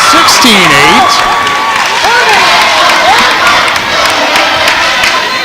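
A home crowd cheers and shouts at a high school volleyball regional final, a loud sustained roar with whoops and yells over the full stretch while a commentator talks over it.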